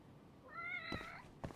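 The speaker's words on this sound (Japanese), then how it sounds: "どっか近くで鳴いてんな猫ずっと。" A cat meows indoors inside an office in the video game Judge Eyes, one clear drawn-out meow followed by a shorter second call, fairly faint and on its own.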